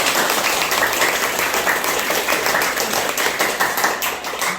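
An audience at a Korean lecture claps rapidly in unison as a timed health exercise, producing a dense, continuous rattle of fast hand claps for several seconds.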